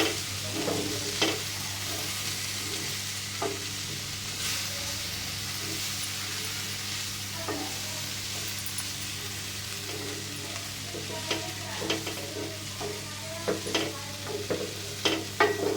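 Valpapdi beans and vegetables with dry masala stirred in a hot pan, a soft continuous sizzle broken by scattered scraping clicks of the spoon, faint and close with no talk.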